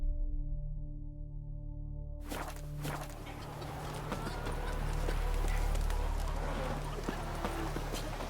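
Horse hooves in The Witcher 3 video game clip-clop in a steady rhythmic gait, close and clear over a low ambient game score.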